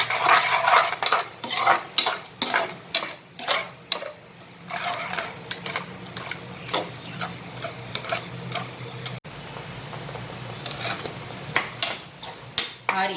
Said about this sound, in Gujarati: હવે આપણે આને હલાવીને લચકા પડતું ના થાય તો લગીને આને ચલાવવાનું છે.